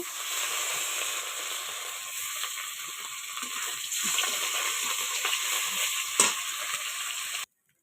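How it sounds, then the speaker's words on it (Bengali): Katla fish rubbed with salt and turmeric fries in hot oil with a continuous bright sizzle and hiss, a small sharp crackle near the end, before cutting off abruptly. "তো এখন মাছটা ভেজে নেব।"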